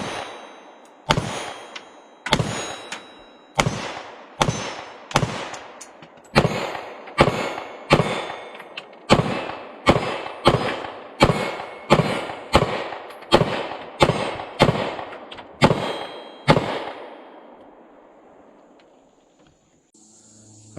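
A Keltec PR57 pistol fires Fiocchi ammunition in a steady string of about twenty loud, sharp shots at roughly one-second intervals, each ringing out briefly outdoors, before the firing stops.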